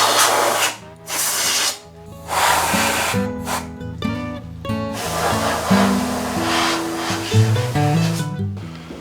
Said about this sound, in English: get out our can of compressed air once again